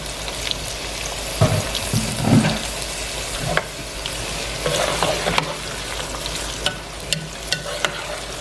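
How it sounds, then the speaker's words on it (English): Onions frying in a pan for a shrimp stew, a steady close sizzle with stirring scrapes, occasional clinks and sharper spatters, moderately loud and without any voice over it. "now here's my onions, and I'm just going to go ahead and add it"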